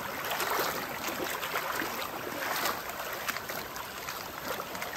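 A clear, cold mountain stream on a trail, with a soft, continuous rush and trickle of flowing water close by and no voices.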